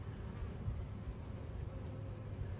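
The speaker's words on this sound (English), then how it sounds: "And the worker bees come up here and grab honey and off they go." A colony of honey bees at an open hive during an inspection, producing a steady, dense low buzzing that holds evenly throughout without pauses and with no talking.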